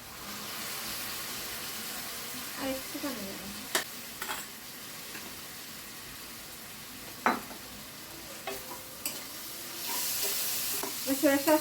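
Fish and vegetables sizzle steadily in a pan with soy sauce while a utensil stirs and scrapes, with occasional sharp clanks against the metal.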